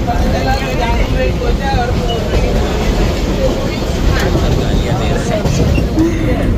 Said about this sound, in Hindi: मुंबई की हम लोकल ट्रेन में देखिए कितनी भीड़ होती है।